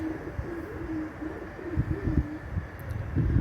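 A released competition pigeon coos in soft, repeated low phrases near an outdoor loft, over a steady breezy background hiss, with no talking.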